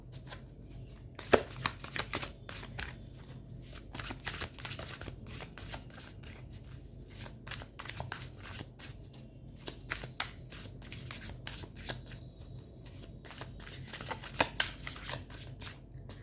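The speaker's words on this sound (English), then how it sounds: "Let's pull out one final card for you from the tarot." Tarot cards being shuffled by hand, a steady run of quick papery riffles and taps that carries on for the whole stretch at close range with no one talking.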